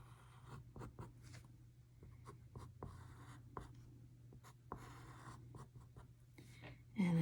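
A pen scratches across a card while drawing eyes, a series of short, soft strokes and taps at close range in a quiet room, ending with a slightly louder knock.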